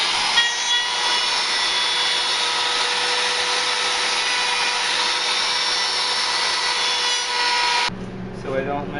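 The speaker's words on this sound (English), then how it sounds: "Now I have to be careful when I use the router." Wood router shaping a wooden toy car, with a loud continuous high-pitched whine and cutting roar close by, stopping abruptly near the end and leaving quieter shuffling.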